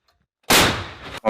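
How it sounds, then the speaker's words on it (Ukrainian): A single loud artillery shot booms after a moment of silence near Pokrovsk, its blast trailing off briefly before another sharp burst at the end, the shell's impact. "Пішов постріл. Є розрив."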